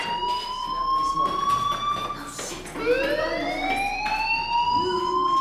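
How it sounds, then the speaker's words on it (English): School fire alarm in the video game Life is Strange wails with a rising and falling siren tone, loud and continuous, first over one sweep and then climbing again. "Hey, do you hear that fire alarm? That means you should be outside."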